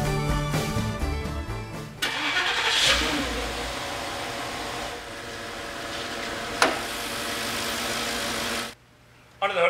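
A Porsche Cayenne Turbo with a 4.5-liter twin-turbo V8 starts up and settles into a rumbling idle, loud and close, with a few louder bursts before the sound cuts off abruptly near the end.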